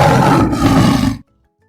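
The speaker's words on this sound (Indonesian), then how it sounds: "harimau" Tiger roar, a single loud, close, rough growling roar lasting about a second before cutting off abruptly to silence.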